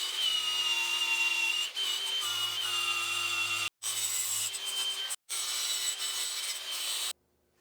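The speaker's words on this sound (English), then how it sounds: "I've put one of these Makita grinders to work, and it's performing great. I cleaned up the edges with a flat disc" A Makita grinder fitted with a flat disc cleans the edges of 3/16-inch steel plate, giving a steady, loud, high grinding whine that runs for several seconds, cut by two short pauses, then stops.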